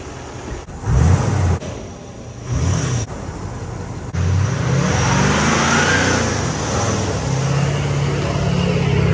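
A truck engine revs hard and loud, surging in bursts before settling into a sustained, steady drone as the vehicle pulls away nearby.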